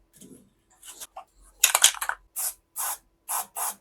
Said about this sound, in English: Lithium grease.